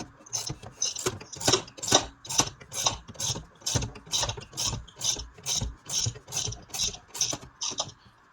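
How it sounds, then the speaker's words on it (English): A ratchet clicks as it backs off during a bearing replacement on a Husqvarna 385XP chainsaw, a loud close run of even, rhythmic metallic ratcheting strokes, roughly two per second, with no talking. "You can hear the ratchet backing off."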